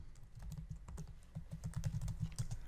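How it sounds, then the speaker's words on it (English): Short burst of quiet typing on a computer keyboard as a pytest command is entered in a terminal, several soft clicking keystrokes in quick succession, close and alone. "Now in the terminal, we send a command for the marker by writing pytest"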